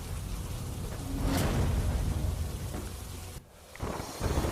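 Heavy monsoon downpour in Amreli district, a steady dense roar of rain with possible distant thunder rumbling underneath, continuous throughout with a brief dip near the end.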